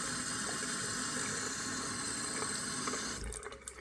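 Tap water runs steadily into a bathroom sink while makeup brushes are washed, a close, even rushing flow that cuts off abruptly near the end.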